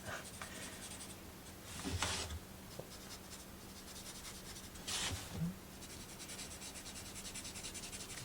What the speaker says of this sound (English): Put my new acrylic markers to the test, or sort of new.